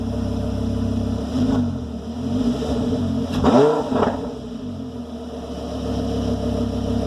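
A Lamborghini Gallardo LP560 with an Akrapovic valved exhaust, valves closed, idles with a steady low drone and gives one short rev near the middle before settling back, heard close with no talking.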